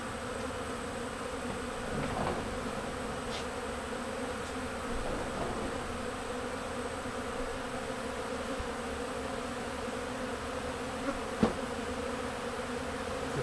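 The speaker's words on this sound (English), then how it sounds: "And there are bees everywhere." A dense, steady drone of many honeybees buzzing at once during a honey extraction, a low humming swarm that fills the air without pause, fairly quiet overall.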